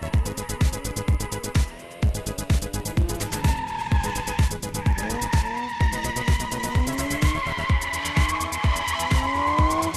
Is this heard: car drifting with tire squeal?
yes